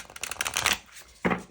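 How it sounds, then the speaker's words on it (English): Oracle cards from a Work Your Light deck are shuffled in close, papery riffles, a dense flurry of card noise, a short pause, then one more quick burst. "So, let's shuffle."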